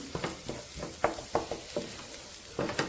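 Beaten egg with onion and green chili sizzles quietly in a pan as a spoon stirs and presses it, giving soft scraping taps in an irregular rhythm over a faint fry.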